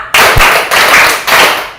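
Hands clap in a loud, close, rhythmic burst pattern during a classroom clapping exercise, each clap a sharp, bright crack in quick succession.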